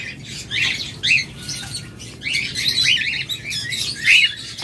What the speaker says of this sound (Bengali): সুপার কোয়ালিটি বিগ সাইজের পাখি, প্রত্যেকটা ডিম বাচ্চা করা ককাটেল